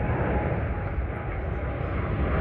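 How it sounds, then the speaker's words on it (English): Loud, steady jet-engine roar from an airplane passing close overhead at Kew Gardens, London, on a hot summer day, a broad rushing noise that holds for the whole stretch with no voices. "Look at that plane,"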